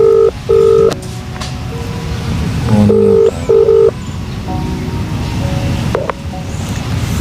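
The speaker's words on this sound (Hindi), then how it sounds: "ठीक है सर, मैं एक बार कॉल करता हूँ उसको।" Phone call dialed on speakerphone: a series of loud, steady keypad tones in short bursts, several beeps in a row with gaps, over a constant hiss of background noise.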